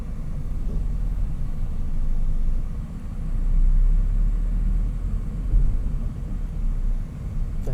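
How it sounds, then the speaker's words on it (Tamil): A bus passing on a highway near a toll gate at the entry to Madurai, heard as a low, continuous engine and road rumble that swells and fades slightly as it goes by, with no one speaking. "தஞ்சாவூர் பஸ் ஒன்று போகுது பாருங்கள்."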